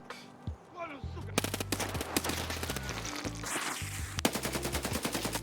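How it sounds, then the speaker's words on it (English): Gunfire in the video game Escape from Tarkov: repeated bursts of rapid automatic shots, fairly close and loud, broken by short pauses, with a few single cracks between the volleys. "We hear somebody shooting right in the ditch, so we know exactly where he is."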